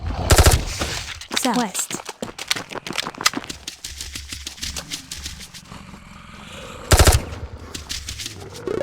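Bursts of automatic gunfire in a video game set on a swamp map: one loud volley near the start and another near the end, with a voice calling out directions in between.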